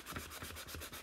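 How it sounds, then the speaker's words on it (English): Chalk craft piece having its edge sanded, a steady close-up scratchy rubbing in quick back-and-forth strokes, faint and uninterrupted with no talking. "So I'm going to do a little sanding."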